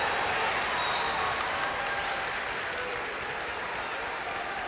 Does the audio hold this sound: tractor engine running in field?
no